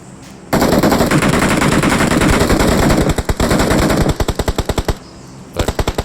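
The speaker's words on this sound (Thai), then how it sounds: "เสียงปืนมันดังเกินนะครับ" Loud rapid automatic gunfire from a PUBG video game bursts continuously, then breaks into separate sharp shots and short volleys, with brief pauses between.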